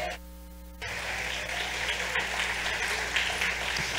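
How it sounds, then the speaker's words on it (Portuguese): A church congregation bursts into loud, steady applause after a brief sustained tone, and the clapping continues evenly to the end. "Você pode aplaudir ao Senhor por isso?"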